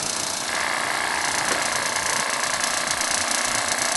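Wilesco D14 toy steam engine running steadily after being spun by hand, a continuous loud whirring, hissing chug with a constant hum.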